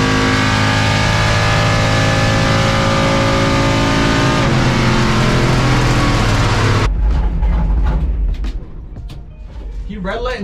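A 700-horsepower pickup truck runs a full drag racing pass, its engine roaring loud and sustained at high revs for several seconds before cutting off abruptly, after which quieter, scattered noise follows.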